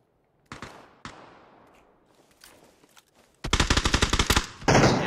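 Automatic gunfire in a PUBG-style battle royale shooter: a few isolated single shots early on, then a fast, loud burst of rapid fire followed by another heavy volley near the end.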